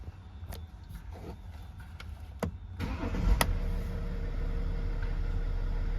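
A BMW 630d GT with a particle sensor electrical fault cranks over and its diesel engine catches, settling into a steady, close idle rumble after a few clicks and clunks, with no talk.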